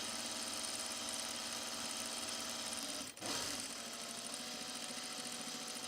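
A sewing machine stitches in the ditch along a blouse facing with a steady, close whir, breaking off for a moment and then carrying on.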